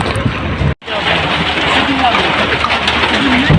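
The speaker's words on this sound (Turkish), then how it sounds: "Dolu yağıyor. Çok fena." Hail clatters densely and loudly on nearby surfaces, a continuous hard patter briefly cut off, with a voice speaking over it.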